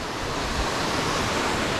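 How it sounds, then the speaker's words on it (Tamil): Steady, dense rushing roar of water at Pomma Kida Water Falls near Vaniyambadi, continuous and even, with no voices over it. "அதுதான் அந்த ஃபால்ஸ்"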